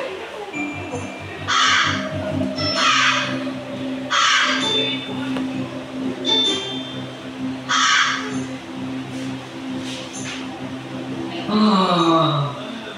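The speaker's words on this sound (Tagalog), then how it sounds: "may uhaw na isang uwak" Crow cawing in hot summer weather, several loud harsh caws repeating at irregular intervals over about thirteen seconds, up close and clear against faint background noise.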